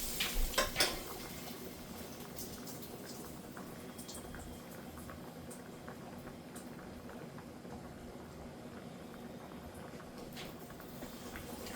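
A few clattering knocks, then a low, steady liquid rush as hot cooking oil is poured out of a pan used to brown sausage.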